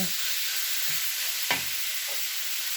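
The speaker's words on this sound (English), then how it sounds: "Give it a good stir." Seasoning is stirred into sweet and sour pork frying in a pan, a steady sizzle under a few soft scrapes of the utensil, close by with no talk.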